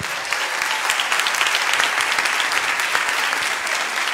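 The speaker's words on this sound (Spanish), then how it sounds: "un fuerte aplauso para todos nuestros consultores de Inmunotec" Audience applause at a business opportunity meeting for Inmunotec consultants: steady, dense clapping from a large room that holds evenly for about four seconds with no voices over it.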